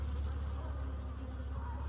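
Honey bees buzz around their hive during a solar eclipse, a steady low drone of many wings near the microphone, continuous and unbroken with no talking.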